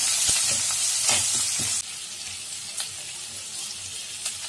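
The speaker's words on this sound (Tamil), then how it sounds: "இது எல்லாத்தையுமே போட்டு நல்லா வதக்கும்" Onion, garlic and ginger sauté in a pan with a bright, steady sizzle and a few spatula scrapes, the hiss dropping slightly in intensity partway through.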